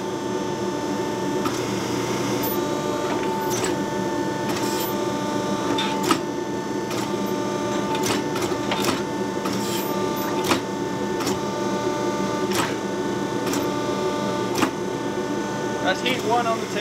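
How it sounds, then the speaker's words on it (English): A forging press with angled dies squeezes Damascus steel to draw out the tang of a Persian dagger: a steady mechanical drone runs throughout, broken by sharp intermittent clanks and ticks at close range. "These dies are at an angle, so it's actually pinching the steel."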